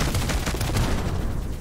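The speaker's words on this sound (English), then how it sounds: "are fucking Terran fighters shooting at me?" Terran fighters open fire in the space shooter game Arc Savior, producing a dense, continuous rattle of rapid gunfire that runs loud throughout the short stretch.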